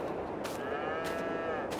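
A cow gives a single short, close moo in the farming video game Farming Simulator 22 on PS5, heard alone over steady background ambience.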